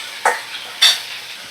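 Eggplant and potato pieces frying in a pan over a medium flame, with two short bursts of stirring and scraping rising over a faint, steady sizzle.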